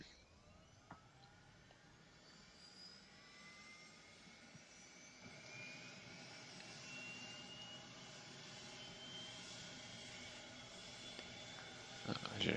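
An ATR turboprop engine spools up during start in the X-Plane flight simulator, a rising whine that steadily builds in pitch and loudness over a broad airy roar, with no talk over it.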